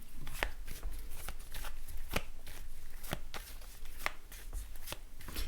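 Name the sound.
shuffling a Modern Witch Tarot card deck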